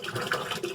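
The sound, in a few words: water running from a tap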